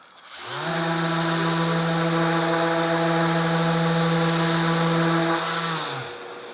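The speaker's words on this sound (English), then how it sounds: "All right, we've got the ETS EC 150/5, much more aggressive sander." Festool ETS EC 150/5 random orbital sander spinning up and sanding, a loud steady whirring drone with a smooth hum that holds for several seconds before winding down.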